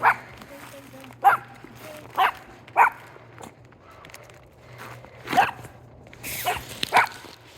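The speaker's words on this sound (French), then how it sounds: "Non, le chien." A dog barks in a forest, several sharp barks spaced irregularly at moderate distance, mixed with rustling and faint voices.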